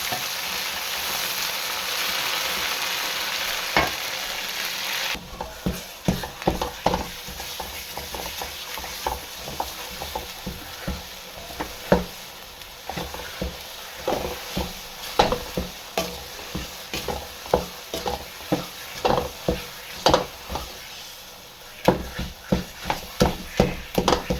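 Semolina stirred and frying in melted fat in a pan for makhandi halwa, a steady sizzle with a quick run of rhythmic scraping and knocking strokes from the spoon, close and fairly loud, with no talk.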